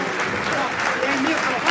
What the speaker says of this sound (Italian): un applauso a tutti.